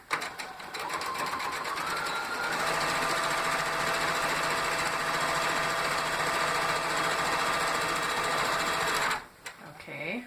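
A sewing machine runs steadily for about nine seconds, chain piecing rag quilt fabric without stopping between pieces, then stops abruptly as a brief bit of handling noise follows.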